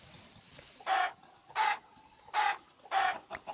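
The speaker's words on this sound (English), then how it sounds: "Come back here, you chicken." Minecraft chicken clucks in four evenly spaced short bursts, fairly loud and close, over a faint steady background.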